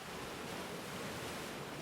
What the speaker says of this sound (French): Le bruit des vagues m'emporte avec elle l'espace d'un instant